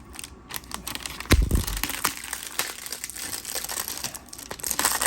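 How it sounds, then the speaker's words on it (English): Plastic packaging crinkles and tears as it is pulled off a new Vinchef saucepan, with close, irregular rustles and one sharp louder crackle partway through, no voices. "now we gotta get all this plastic off of here"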